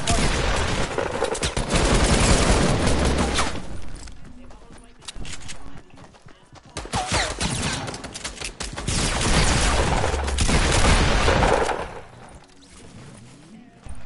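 Rapid bursts of gunfire from the Fortnite video game come in loud clusters, with quieter gaps between volleys, while a player talks over the action.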